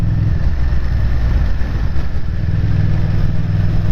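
A Honda VTR V-twin motorcycle engine is heard while riding on a Welsh mountain pass, a loud, steady low rumble mixed with wind noise, continuous and close throughout.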